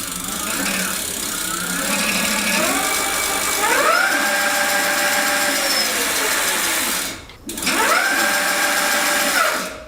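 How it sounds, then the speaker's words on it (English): A Letrigo cargo e-bike's steel-reinforced Hentech hub motor gears whine in turbo mode, rising and falling in pitch as it spins up, cuts out briefly near the end, then spools up again; loud and close. "So pretty curious to see what those gears sound like on the steel reinforced Hentech motor gears"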